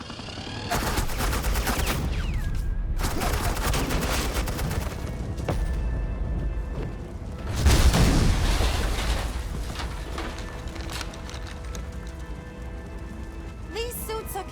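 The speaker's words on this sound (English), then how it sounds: "Suppressing fire." Suppressing gunfire in a Batman video game: dense bursts of automatic fire and heavy impacts blast loudly and near, with a big explosive peak midway and rattling shots trailing off afterward.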